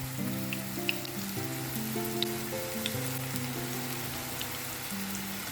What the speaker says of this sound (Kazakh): Ал енді қызып тұрған табаға сұйық май құямыз. Және баклажанды салып,